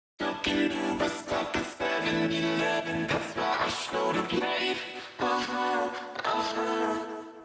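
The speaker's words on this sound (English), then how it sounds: "So then I had the idea to put the lead vocal through Harmony Engine, which is basically a harmony generator." A lead vocal run through the Harmony Engine harmony generator produces stacked chordal voices beneath the melody, a thick, sustained choral texture with rhythmic breaks and percussive accents in a remix production.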